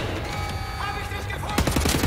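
A burst of assault rifle fire from a Wolfenstein shooter game rattles loudly over a steady backdrop of game ambience, and a sharper volley breaks out near the end.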